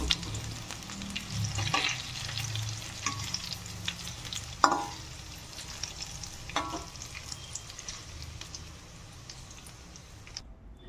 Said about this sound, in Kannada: ನಾನು ಶಾಲೋ ಫ್ರೈ ಮಾಡ್ಕೋತಾ ಇದ್ದೀನಿ.